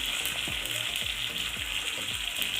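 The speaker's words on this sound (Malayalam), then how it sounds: "കടുക് പൊട്ടിക്കഴിഞ്ഞ് ഫ്ലെയിം ഓഫ് ചെയ്യാം കറിവേപ്പില ചേർത്ത് കൊടുക്കാം" Mustard seeds and curry leaves crackle and sizzle in hot oil for a tempering, a dense continuous frying hiss with repeated low knocks from the pan, loud and close, no talk.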